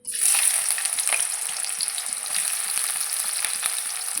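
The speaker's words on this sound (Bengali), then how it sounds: "এবার কড়াইতে পেঁয়াজ দিয়ে দেবো" Onions dropped into hot oil in a wok hiss into a steady, close frying sizzle with occasional crackles and stirring clicks, carrying on without pause and with no talking.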